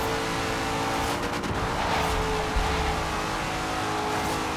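A drift-tuned Corvette in Forza Horizon 3 running at about 200 mph, a loud, steady high engine roar with tire squeal and a brief surge partway through.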